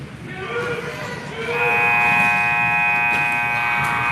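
A loud, sustained hockey arena buzzer ends a period at a Mammoth vs. Komets game, sounding over crowd noise and an excited announcer's voice, holding steadily to the end.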